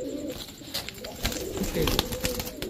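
Pigeons, a pair of Sapchila and a pair of Kaldom, coo steadily at close range in low rumbling bursts, with scattered sharp knocks and rustles from birds moving about.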